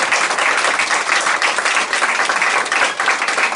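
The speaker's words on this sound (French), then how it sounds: "Je pense qu'on peut l'applaudir." An audience at a round-table press conference applauds, dense steady clapping that fills the room at full volume throughout, with no talk over it.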